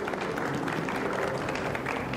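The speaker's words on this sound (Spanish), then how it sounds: "recibámoslos con un fuerte aplauso" Audience applause welcoming guests and a moderator to a science talk at the Bogotá book fair, a continuous wash of clapping from a hall crowd at moderate distance.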